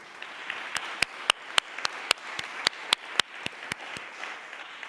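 Sparse applause from a conference audience at a Barcelona city council event on a European Roma project, a few distinct sharp claps standing out over a soft, scattered patter, moderately near and fairly quiet.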